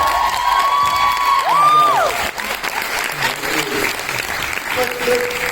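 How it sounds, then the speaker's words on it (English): Loud audience applause and cheering at a convention Q&A panel, a dense crowd roar with whoops, a whistle and a shout, clapping continuing as it settles. "can we give them a huge round of applause?"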